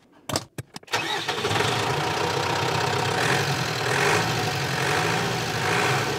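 A converted L2H2 van's engine cranks in a few sharp bursts, catches, then settles into a steady, loud idle that continues to the end.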